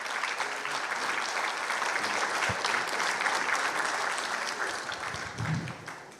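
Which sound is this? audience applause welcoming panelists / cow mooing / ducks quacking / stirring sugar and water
audience applause welcoming panelists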